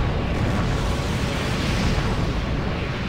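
Continuous roaring blasts of missile and grenade explosions from the mech combat game Armored Core 4, a dense, loud rumbling barrage with no clear gaps across the whole stretch.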